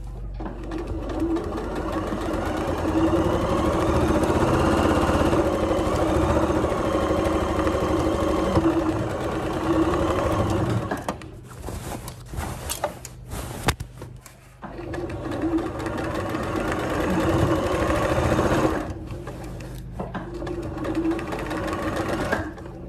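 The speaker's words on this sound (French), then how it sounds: "Et je couds tout autour de ma poche." Domestic sewing machine stitching around a fabric pocket for a dress, a loud steady motor whir running continuously, pausing briefly midway and at a stop near the end before resuming.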